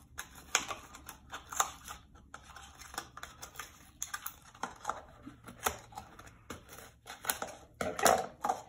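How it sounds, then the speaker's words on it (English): Scissors snip and poke through cardboard to cut a small circular hole for a paper towel roll, producing a series of sharp, irregular crunching clicks close to the microphone, with no talking. "I'm just going to take my scissors and poke a hole in the bottom part"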